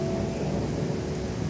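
Steady rain falling outdoors during a tropical depression in Cebu, a dense even hiss of drops with a low rumbling undertone, no voices.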